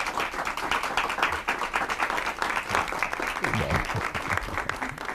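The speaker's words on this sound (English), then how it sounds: "If we could give them a round of applause." Audience at a Fellowship Farm event claps for the speakers: steady, dense applause from a room full of people, close and sustained throughout, with faint voices mixed in.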